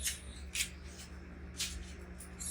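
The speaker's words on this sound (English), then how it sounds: "So I have my scissors here, and I will start cutting from the upper part" A few sharp scissor snips cutting through fabric, spaced irregularly, close and fairly quiet over a low background hum.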